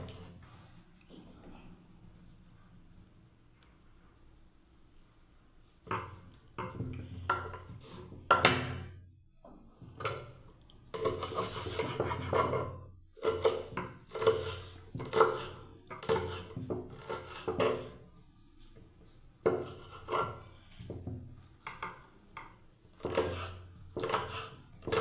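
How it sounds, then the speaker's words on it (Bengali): A knife chops green beans on a cutting board for a breakfast semai dish, quick irregular taps in bursts with short pauses, close and fairly quiet. "এবার আমি বিনসগুলো কেটে নিচ্ছি।"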